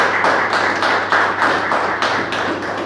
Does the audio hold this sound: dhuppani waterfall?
no